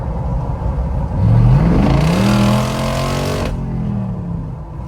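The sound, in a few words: Jeep V8 engine accelerating hard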